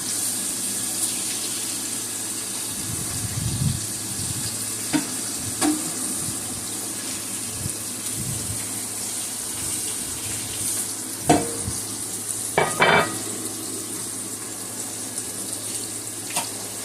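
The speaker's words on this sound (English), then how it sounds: "now I can go ahead and I can start adding my prawns to the pan" Prawns hit a hot pan and sizzle with a steady frying hiss, broken by a few louder clatters and scrapes of cooking.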